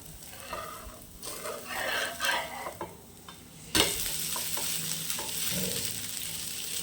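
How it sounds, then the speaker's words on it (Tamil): Pearl millet (kambu) dosa frying in a little oil on a pan: a steady close sizzle with a few utensil scrapes and stirring clinks, growing louder and brighter partway through. No talking. "இப்போ நான் பேன் வச்சுருக்கேன் இதில் தோசை ஊற்றிக்கலாம் லேசாக எண்ணெய் சேர்த்துக்கலாம்"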